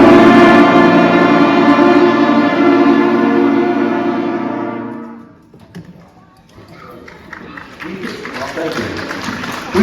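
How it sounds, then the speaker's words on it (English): Sixth-grade school band holding a full chord during a junior high spring concert, loud and sustained for about five seconds, then fading into a quiet room with scattered noises and faint voices. "now we're learning to play chord progressions, and we sound like this"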